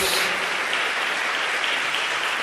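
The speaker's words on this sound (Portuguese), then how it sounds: "Dê uma salva de palmas ao Espírito Santo." A church congregation breaking into a sustained wash of applause during a worship service, dense and even throughout with no gaps.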